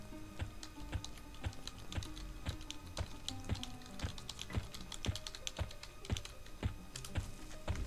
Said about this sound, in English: I'm wireless keyboard in my lap, so I'm not able to type